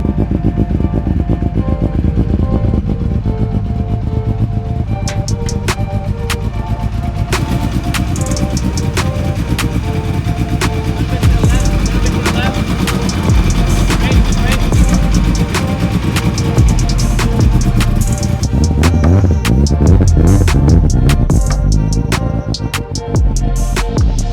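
A loud, tuned Evo race car engine idles and revs continuously with a smooth, buzzy rotary-like tone, staying close and steady throughout.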